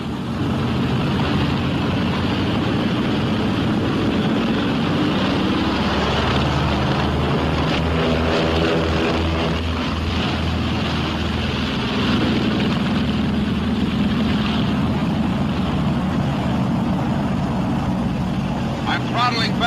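Twin radial engines of a B-26 Marauder bomber roar loud and steady through takeoff, a dense continuous drone with a throbbing low hum, while a voice speaks over the engine noise.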